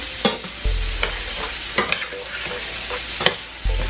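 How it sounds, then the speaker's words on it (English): Rice stirred and toasting in butter and oil in a pan, with a steady sizzle broken by several sharp scrapes and clacks of the spoon against the pan, close and moderately loud, with no talking. "We kind of cook the rice a little bit"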